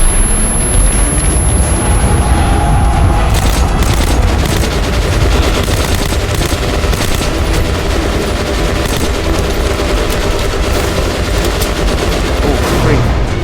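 Dense, continuous gunfire with rapid automatic bursts and booming shots fills a chaotic firefight in the video game Metro: Last Light, loud and unbroken throughout.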